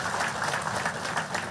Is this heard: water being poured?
no